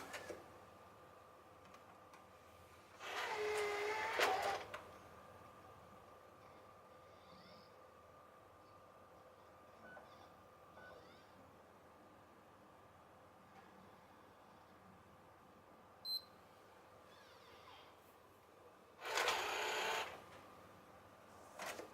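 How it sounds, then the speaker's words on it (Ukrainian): A Sony PlayStation 4 disc drive whirs in two short mechanical bursts as it pulls in and ejects a disc, separated by quiet faint hum and a small click. "Можете послухати, як працює привід диска."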